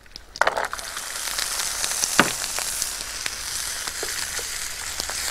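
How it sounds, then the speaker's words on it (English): Chopped celery and carrots frying in hot oil in a frying pan: a steady close sizzle with crackles, plus a few clatters and stirring scrapes near the start. "Then I'm going to fry the chopped celery"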